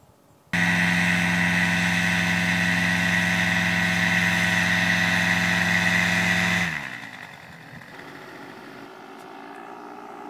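A powered paraglider's paramotor runs loud and steady with a strong droning whine during training, then abruptly cuts back to a low idle hum near the end, with no talking.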